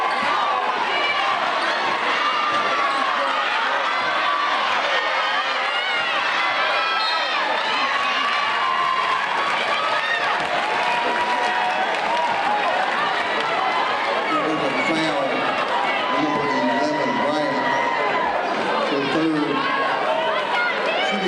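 High school girls' varsity basketball fans in a gym cheer and shout loudly and continuously, with squeaking sneakers, bouncing balls and scattered voices mixed in.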